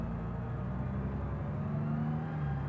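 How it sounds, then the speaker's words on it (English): Truck engine in the BeamNG driving game, a steady mid-pitched drone with a slowly shifting tone, running continuously and fairly loud throughout with no talking. "I guess the truck engine sounds are giving me enough to think about."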